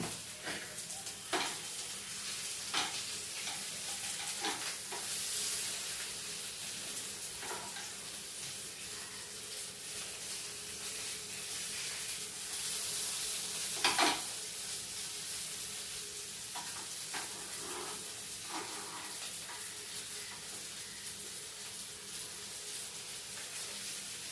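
Food fries in a frying pan with a low, continuous sizzle for a long stretch, punctuated by occasional scrapes and taps as pieces are turned, one louder clatter near the middle; no speech.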